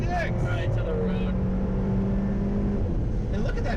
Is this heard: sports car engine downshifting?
yes